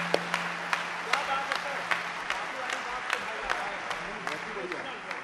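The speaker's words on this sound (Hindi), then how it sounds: "दोनों हाथ उठाकर जोरदार तालियों से आप उसका स्वागत करें।" Audience at a Hindi kavi sammelan poetry gathering applauding to welcome a poet, sharp individual claps over a murmuring crowd, with a voice speaking faintly beneath.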